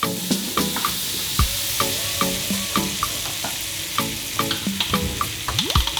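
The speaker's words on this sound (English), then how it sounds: "Straight into the olive oil, we're going to add a good 50 grams of butter, and we're going to melt that down" Butter melting in hot olive oil in a pan, a steady bright sizzle with intermittent spoon stirring and scraping, close and loud with no voices.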